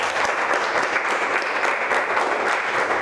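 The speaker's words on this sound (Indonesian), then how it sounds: "Tepuk tangan untuk kalian semua." A classroom of vocational high school students claps together in steady, dense applause that fills the whole moment at close range, with no voices over it.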